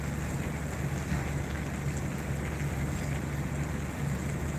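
A continuous rushing flow like a waterfall fills the space as a steady, even roar. It carries on unbroken from start to finish, with no voices over it.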